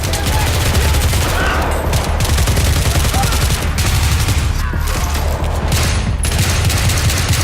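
Battlefield 3 Gunmaster mode in close-quarters combat, a dense, loud, unbroken barrage of overlapping gunfire and explosions filling the whole stretch.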